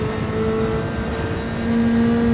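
Racing car with a rear spoiler and hard racing tyres in Gran Turismo 7, its engine droning loud and steady at speed on a fast track section, pitch rising slightly near the end, with no talk over it.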